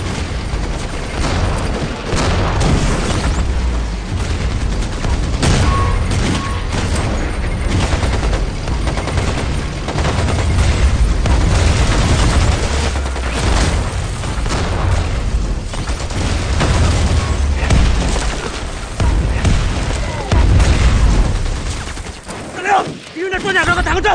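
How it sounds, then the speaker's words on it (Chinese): Battle scene from a Chinese war film about the New Fourth Army fighting Japanese troops, with relentless artillery bombardment, booming explosions and rapid gunfire, loud and continuous for over twenty seconds, with shouted voices mixed in. "命令炮兵把炮口调到45度，给我狠狠的轰"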